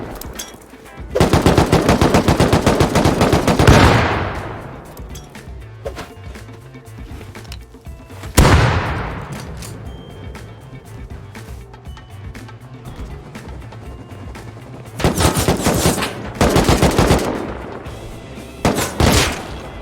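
Automatic and rapid gunfire in the survival game Rust during a base raid, long loud bursts of machine-gun fire with sharp booming shots and pauses between volleys, close and dominant with no talk.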